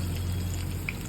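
Small topse fish frying in hot oil at home, a steady close sizzle with a low hum underneath and no talk.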